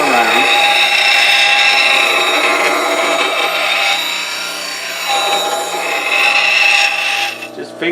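A steel woodturning bowl scraper is rotated with flat finger pressure across an abrasive surface on a table, making a loud, continuous rasping scrape that swells and eases for several seconds.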